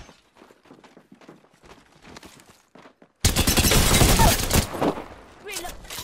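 Rapid bursts of video-game gunfire erupt suddenly after a quieter stretch of footsteps and soft movement, loud and dense for a few seconds before easing slightly.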